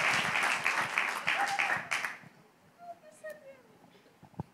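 A church congregation claps in praise during a service, a dense run of rhythmic claps for about two seconds that then stops, leaving faint voices and scattered small sounds.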